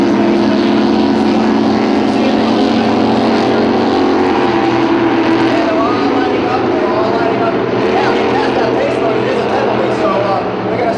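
Racing powerboats at a 2005 Pickwick powerboat race roar loudly and continuously as they get up on plane, a dense, sustained engine drone with a commentator talking over it throughout.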